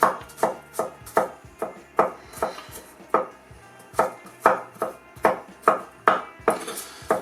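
Rapid, rhythmic knife chops strike a cutting board, about two per second, crisp and close, continuing evenly with no voices.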